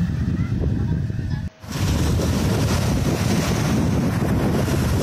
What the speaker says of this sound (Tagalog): iparinig ko sa inyo yung hangin at alon ng dagat.